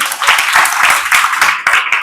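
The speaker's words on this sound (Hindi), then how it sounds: "एक बार 14 ताली हो जाए अपने खुद के लिए" A group of people claps together in a quick, even, rhythmic series of sharp claps, close and fairly loud, with no voices over it.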